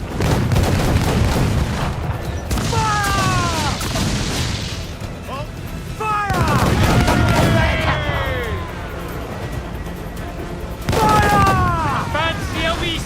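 Enemy ships fire cannons at sea in the pirate video game Assassin's Creed Black Flag, heavy booming volleys and crashes rolling throughout, mixed with shouting crew voices and swelling orchestral music.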